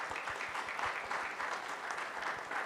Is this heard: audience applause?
yes